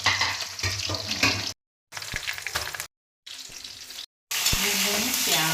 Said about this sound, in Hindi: ये प्याज भून रहे हैं